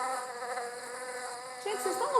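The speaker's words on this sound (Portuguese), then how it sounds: "Sim, são abelhas." A continuous buzzing of bees, high and droning with wavering pitch, steady throughout and fairly close, with no talking.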